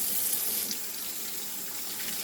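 Dish soap containers rinsed under a running kitchen tap: a steady, close rush of flowing water that stays even throughout, with no voices.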